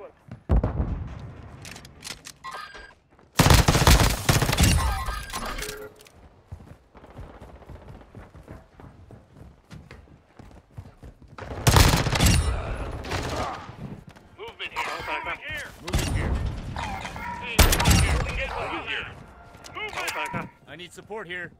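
A shotgun fires during a video game fight against a giant infected enemy, with loud close blasts in bursts and scattered gunfire between them, while a player talks over the action.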